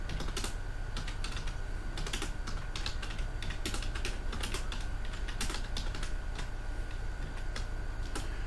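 Steady typing on a computer keyboard, a continuous run of quick clicky keystrokes over a constant background hum, close and without talk.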